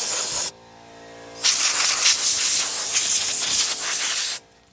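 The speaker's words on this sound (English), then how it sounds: "now I'm getting the compressor and blowing out around here" An air compressor nozzle blasts compressed air around the engine area of a 2005 Arctic Cat 400 4x4 ATV: a short loud hiss, a brief pause, then a longer sustained roaring blast, close up.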